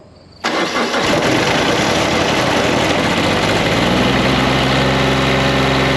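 A cold Kubota tractor engine cranks briefly and then catches, settling straight into a loud, steady, rough idle close by.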